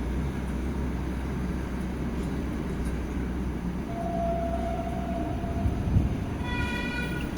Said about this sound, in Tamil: வந்தே பாரத் போகுது பாருங்கள்.